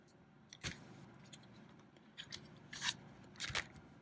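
A BATTOP wireless folding keyboard is folded shut, giving a few sharp, light plastic clicks and snaps spaced over several seconds against a quiet background.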